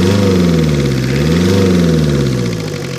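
A 1985 Ford Escort's Mazda RF 2.0 diesel engine idles close and loud, a deep throbbing rumble with a gently wavering pitch, easing slightly softer toward the end.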